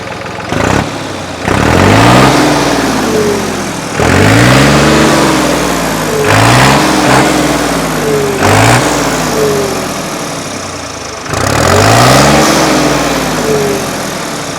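A New Holland tractor engine cranks and starts, then revs up and down in several loud, rising bursts with brief drops between, close by.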